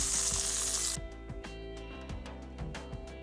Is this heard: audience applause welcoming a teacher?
no